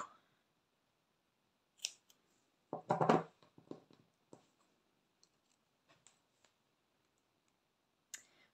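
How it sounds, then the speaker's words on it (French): A few sharp snips of scissors cutting a small piece of double-sided tape, followed by scattered soft clicks and taps in a quiet room. "je viens prendre du scotch double face et j'en coupe un tout petit bout"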